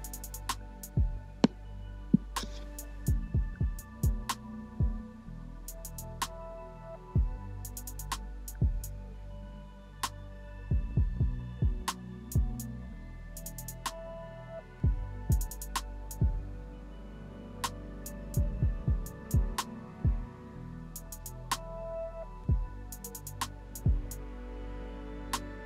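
Electronic dance track built in Ableton Live, with a punchy EQ'd kick drum thumping steadily under synth chords and sharp percussive hits, moderately loud and continuous, with no voices.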